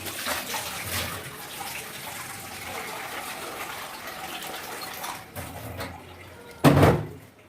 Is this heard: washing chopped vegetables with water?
yes